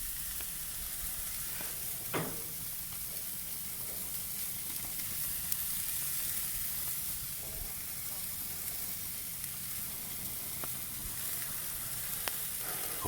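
Burgers and hot dogs sizzle on a Dyna-Glo five-burner gas grill, a faint, steady hiss and crackle with occasional small pops.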